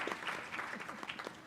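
Audience applause at a school board of education meeting, a steady wash of many hands clapping for about a second and a half at moderate distance, with no talk over it.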